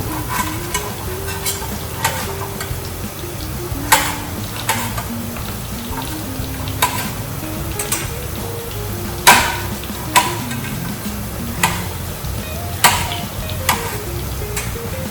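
Cut tomatoes cook in a pan for chicken rasam and a spoon stirs them, sounding as a steady sizzle punctuated by irregular sharp clicks and taps of the utensil against the pan, close and without talking.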